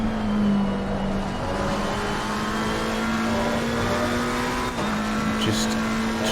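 Porsche, Lamborghini and Ferrari GT race cars in Assetto Corsa Competizione at Donington, steady high engine drone close by in a pack, with a brief gear change near the end, continuous and loud.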